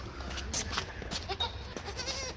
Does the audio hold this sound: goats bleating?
yes